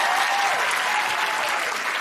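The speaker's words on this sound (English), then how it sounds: "we applaud you" An audience at a live comedy podcast taping claps steadily in a full, even burst of applause that stays loud and continuous throughout.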